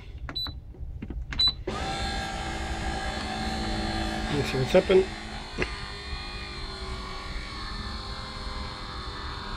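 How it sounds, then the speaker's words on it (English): A Philips Pastamaker's motor strains as it extrudes overly dry pasta dough, a steady close electric whine and buzz that runs on for several seconds, with a few clicks before it starts and a brief spoken remark over it. "So you can hear the motor struggling."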